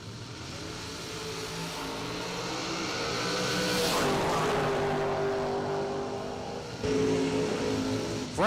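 A 1994 Camaro launches down a drag strip, its engine building from a steady roar to a loud, sustained howl that peaks mid-run and carries on strongly as the car pulls away.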